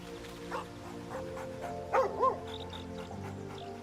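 A dog in Baldur's Gate III gives a few short barks and yips over a quiet background, with two sharper, louder yelps near the middle.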